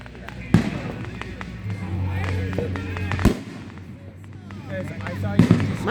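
Fireworks go off in three sharp, loud booms spaced a few seconds apart, with crackling and background crowd noise between blasts.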